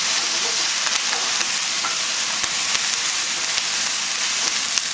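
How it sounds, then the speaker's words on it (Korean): Webfoot octopus stir-fries over high heat in a steady, loud sizzle with crackling pops and the scrape of stirring, close up and continuous, no voices. "쭈꾸미 볶음은 계속 센 불에서 해야 돼요."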